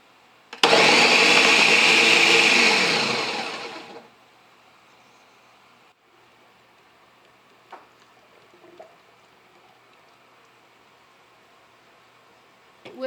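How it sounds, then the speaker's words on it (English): A blender whirs on high while blending a small batch of oil-free hummus, a loud close roaring burst of about three seconds that winds down and stops, followed by quiet with faint clinks. "you're going to put that in a blender and blend it on high"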